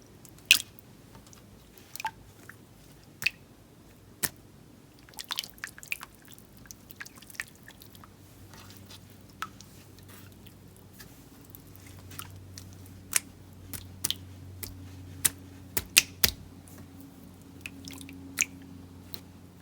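Slime poked and patted by hand gives soft, wet squishes and small sticky pops, scattered irregularly and quiet throughout, with no talking.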